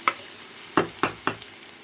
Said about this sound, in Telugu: ఉల్లిగడ్డ అయితే మంచిగా వేగిపోయింది కదా